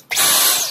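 A steady, breathy motor whine with a loud airy hiss from a Dyson V11 Torque cordless stick vacuum starts abruptly and runs close by without pause.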